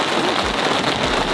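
Rain falling outside a survival camp, a dense, steady hiss that stays loud and even for a brief moment.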